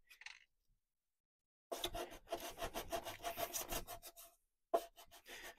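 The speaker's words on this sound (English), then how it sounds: "I don't want to sand too much off at this stage." Sandpaper rubs against wooden hull planking on a 1:84 scale model ship, starting with a brief scrape, then a long run of rhythmic back-and-forth strokes after a pause, and a short final burst, close and fairly quiet.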